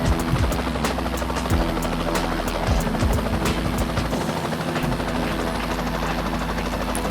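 A Bell helicopter in the X-Plane 12 flight simulator gives a steady, loud rotor and turbine drone that carries on without a break, with rhythmic blade chop running underneath.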